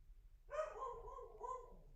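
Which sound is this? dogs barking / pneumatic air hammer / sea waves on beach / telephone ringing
dogs barking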